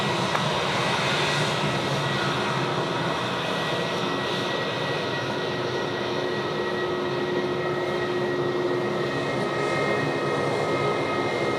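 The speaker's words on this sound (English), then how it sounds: "that A220 spool up sound was an absolute ripper" A Delta Airbus A220 at Sydney Airport spools up its jet engines for takeoff, a continuous, fairly distant roar with a steady whine holding evenly throughout, no voices.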